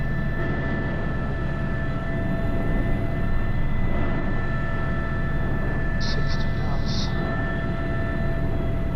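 Airbus H125 helicopter flying a sling load over Norway, heard as a loud steady turbine and rotor roar from inside the cabin throughout, with a few brief higher tones partway through.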